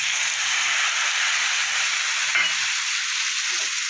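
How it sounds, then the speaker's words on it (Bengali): Kohlrabi, potato and radish fry together in a pan for a mixed vegetable dish, an even, dense sizzling hiss held close with one faint stir midway. "ওলকপি আলু আর মূলোটা ভাজা হয়ে গেছে অনেকটা"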